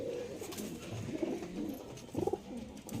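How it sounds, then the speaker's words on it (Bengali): Soft, low coos from domestic pigeons being released from their coop murmur steadily with a small burst near the end, set against a muffled, noisy outdoor background. "কিছু পায়রা ঘর থেকে ছাড়ছি দেখুন"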